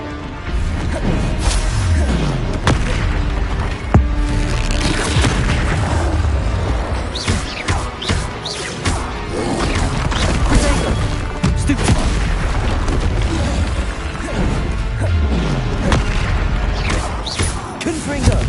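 Spell combat in Hogwarts Legacy: a constant barrage of loud booms, crashes and whooshing magical blasts, with a player's voice calling out over the fighting.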